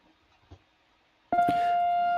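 An electronic alarm suddenly starts beeping with a sustained, steady piercing tone after a brief quiet stretch, loud and close, with no talking over it.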